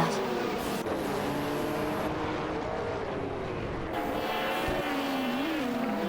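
Race cars including a Ferrari F40 Competizione and a Porsche 961 LM roar through an AI racing game, engines whining and shifting pitch continuously, loud and close with overlapping revs.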